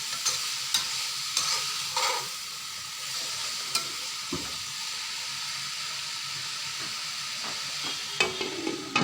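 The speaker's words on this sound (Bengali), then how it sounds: "এটাকে নেড়ে ছেড়ে ঢাকনা দিয়ে ঢেকে দেবো।" Pumpkin fries in a pan with chili powder, a steady sizzle and hiss under occasional scraping and knocking strokes of a stirring utensil, close and without talk.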